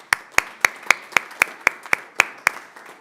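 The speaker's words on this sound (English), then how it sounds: "Can we have a round of applause for John Yemen?" A single person claps at a city council meeting honoring a local business owner, about eleven sharp, evenly spaced claps in a steady rhythm, close and distinct with quiet between them.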